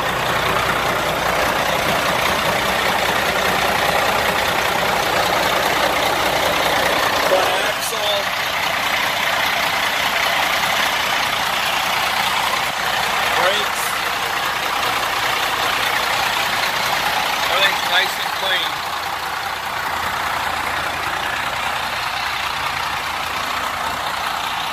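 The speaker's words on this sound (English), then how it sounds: "Larry, here's some video of the engine running under the hood" Diesel engine of a 2003 Sterling AT9500 truck idling with the hood open, a steady loud rumble and whirr that stays even throughout, with faint metallic ticks and no clear talking.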